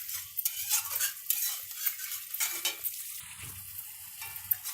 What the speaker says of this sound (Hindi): थोड़ा सा हमें 1-2 मिनट के लिए इसको और भून लेंगे।